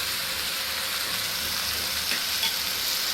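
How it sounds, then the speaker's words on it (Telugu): Paneer pieces sizzle and fry in a hot pan for a gravy dish, a steady close hiss of oil with brief crackles and a faint stir near the end, no voices. "ఈ పన్నీర్ ఒక పక్క ఫ్రై అవుతుందండి."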